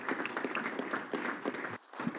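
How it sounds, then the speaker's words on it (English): A small group at an electric utility board meeting gives a brief, quiet round of applause, the clapping uneven and somewhat distant before cutting off. "So I think we ought to give them a round of applause."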